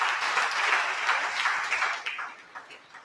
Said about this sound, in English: just want to give those guys a big round of applause, guys and gals, for showing up here